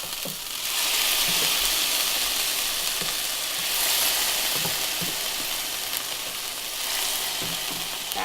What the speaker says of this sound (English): let it brown up in the skillet